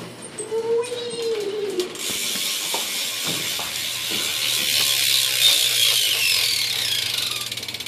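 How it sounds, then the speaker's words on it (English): The rear hub freewheel of a BMX bike clicks in a rapid, steady ratchet that runs loud and close for several seconds and slows near the end, with a few faint sounds before it. "I guess I could do a hub sound or whatever."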